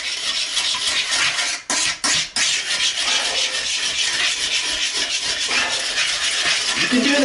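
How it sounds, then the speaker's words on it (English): A pumice stone scrubs a porcelain toilet bowl in close, continuous gritty rasping strokes, with two short pauses early on. "that's just the pumice doing its thing because you're rubbing it on the porcelain"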